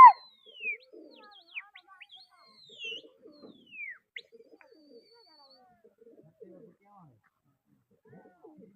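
Pigeons cooing and calling in short, soft bursts, with scattered chirps and faint voices talking in the background.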